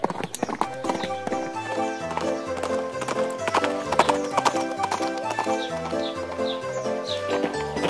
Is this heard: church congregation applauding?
no